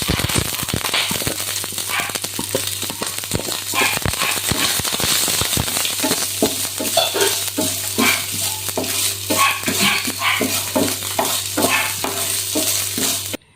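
Pieces of coconut fry in a pan of hot oil with mustard seeds and curry leaves, a loud, close crackling sizzle full of rapid sharp pops that runs steadily throughout, no speech.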